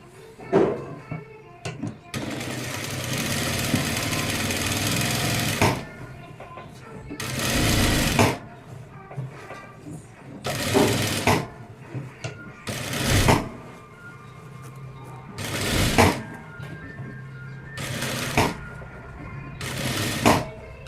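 An electric sewing machine stitches a blouse in loud, steady whirring bursts of a few seconds each, separated by short pauses with fabric handling and small clicks.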